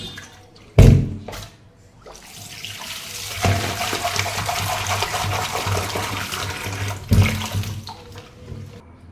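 A kitchen tap runs steadily, water splashing into a pan in the basin for several seconds, with a couple of sharp knocks from items being handled at the start and near the end.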